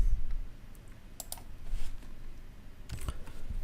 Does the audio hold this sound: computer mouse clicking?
yes